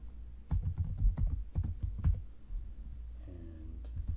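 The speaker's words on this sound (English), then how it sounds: "I'm going to choose my new password" Someone types a new password on a computer keyboard, a close burst of quick, irregular key clicks that thins out into a few scattered taps, with no talking.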